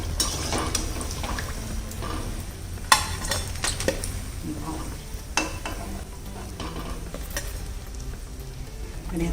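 Potato kachori made with wheat flour fry in hot oil, giving a steady, close sizzle with bubbling and a few sharp clinks and knocks from a utensil. No one speaks.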